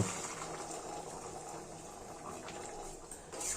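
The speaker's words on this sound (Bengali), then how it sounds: "এবার আমরা এতে ঝোলের মাপ মতো গরম জল দিয়ে দেব" Hot water is poured into a potato and pea curry simmering in a pan, giving a soft, continuous watery rush that stays fairly quiet and even throughout, with no voices.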